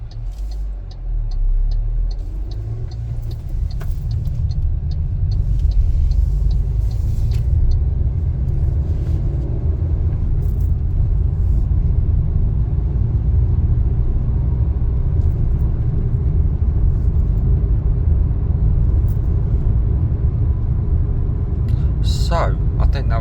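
Steady, loud low-frequency road rumble and engine drone fill the cabin of an MG ZS on the move, continuous throughout, with people talking over it.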